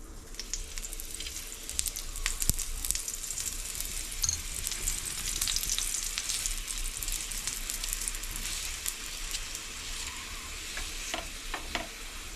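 Sattu-stuffed paratha frying in ghee in a pan, giving a dense, steady sizzle with faint crackles and occasional spatula scrapes, close and continuous, with no talking.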